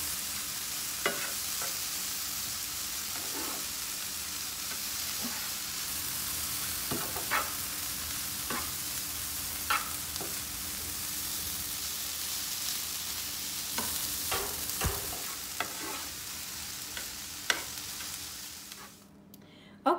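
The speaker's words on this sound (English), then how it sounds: "you're just gonna keep stirring it up, you guys" Tofu scramble stirred in a hot pan, a steady broadband sizzle running throughout with scattered scraping clicks of the utensil against the pan, close and fairly loud, no talking.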